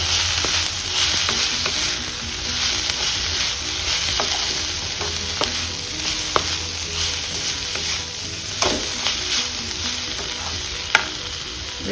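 Onions and crushed chili powder frying and being stirred in a pan for a dry fish and broad bean curry, with a steady close sizzle broken by occasional sharp clicks of a spoon against the pan.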